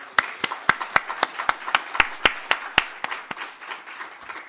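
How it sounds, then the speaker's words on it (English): A small audience claps together in a round of applause at a formal speech event, with sharp individual claps standing out over a thin wash of hand noise, moderately loud and steady throughout. "How about a nice round of applause, everybody?"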